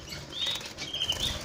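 Canary chicks flapping their wings inside a cage, soft repeated fluttering bursts close by, with a few faint high chirps and no talking.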